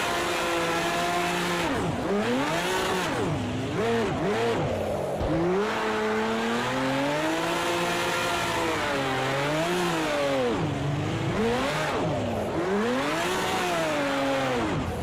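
A 1000 hp drift car running the ProComp Drift Mod in Project CARS 2 revs hard and loud throughout, its engine note climbing, dipping and surging again in repeated waves with no pauses.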